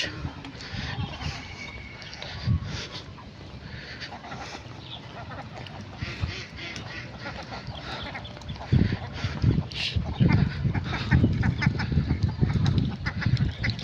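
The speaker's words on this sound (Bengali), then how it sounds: "এই যে হাঁস দেখা যাচ্ছে অনেকগুলো আপনারা দেখছেন" Many domestic ducks in a rural village setting, quacking and honking in a loose cluster under steady outdoor background noise and occasional voices, growing busier and louder toward the end.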